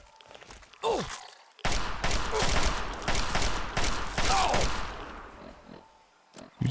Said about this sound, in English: Let's switch over to our Chinese assault rifle.